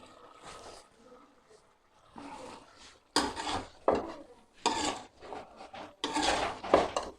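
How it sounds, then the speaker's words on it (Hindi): Potatoes tipped into a pan of carrots and peas, giving several bursts of clattering, scraping and rattling against the metal, louder toward the end, with a voice speaking in the gaps. "अब हम इसमें डालेंगे आलू।"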